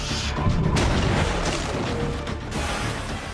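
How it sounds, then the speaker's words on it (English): A pressurized steel tank bursts as its welded bottom plate gives way, a heavy booming blast with a crashing, rumbling roar sustained across the whole moment, loud and close with no voices. "the pressure built until the welded steel plate on the bottom of the tank gave way"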